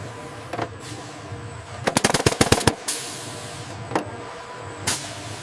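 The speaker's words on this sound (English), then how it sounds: "Initiating automated fastening sequence." An automated fastening machine on a fighter jet assembly line, bursts of rapid sharp pneumatic clicks in a tight cluster, flanked by a few single hissing bangs, close and loud with no voices.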